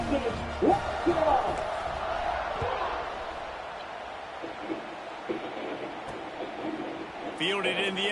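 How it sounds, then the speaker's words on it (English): A stadium crowd roars steadily in College Football 26 during a Duke versus North Carolina game, a broad distant wash of cheering under a commentator's voice throughout. "this crowd is feeling themselves after that last drive"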